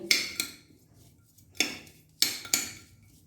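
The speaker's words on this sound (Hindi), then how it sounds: "ऑरिगेनो डालूंगी थोड़ा सा चिली फ्लेक्स और हम इसे मिक्स कर देंगे।" Spoon clinking against a bowl while homemade salsa is stirred together with oregano and chili flakes, giving four sharp, close metallic taps at irregular intervals with quiet gaps between.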